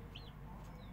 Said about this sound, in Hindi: ये मुर्गा है, इसके बच्चे हैं, वो पीछे मादा बैठी हुई है